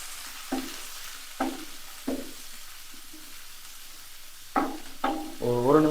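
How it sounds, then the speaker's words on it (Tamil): Chopped onion and capsicum being sautéed in a pan for paneer gravy: a handful of distinct spatula stirs and scrapes at irregular intervals over a faint, steady sizzle, quicker stirring near the end. "இப்போ ஆனியன் கேப்சிகம் சேர்த்து ஒரு நிமிஷம் வதக்கணும்."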